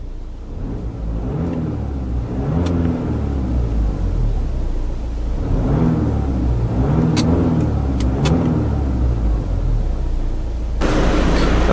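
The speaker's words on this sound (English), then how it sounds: "So from idle, the car won't actually rev past 2500 RPM." A 2012 Audi A5 S-Line coupe's 2.0 TDI turbo diesel revs up from idle in repeated rising swells, held close and loud, with a steady low rumble between the pushes and no talking.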